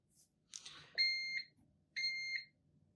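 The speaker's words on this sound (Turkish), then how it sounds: "İşlem bittiğinde de bip bip diye size haber veriyor." A coffee machine gives two short electronic beeps, about a second apart, signalling brewing has finished, after a brief rustle, in an otherwise quiet room.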